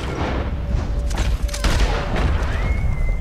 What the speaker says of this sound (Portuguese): Quem que tá atirando ainda?